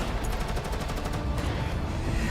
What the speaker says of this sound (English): more gunshots and explosions resound beyond the fortress